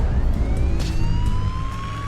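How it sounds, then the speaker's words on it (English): A siren wails in the animated Transformers: Robots in Disguise series, with loud rising tones sweeping over a dense rumbling engine-like background. "Can you not silence your siren?"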